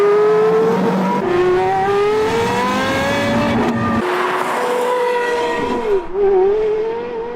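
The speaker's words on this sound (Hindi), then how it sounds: "नंबर 7 पर आती है पोर्शे कैरेरा जीटी" A mid-engine Porsche Carrera GT sports car from the 2004–2006 production run revs loudly and close, its engine note climbing and dipping through several sweeps with a sharp blip near the end.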